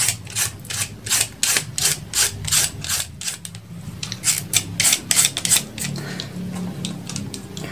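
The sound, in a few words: shaving coconut for coconut chips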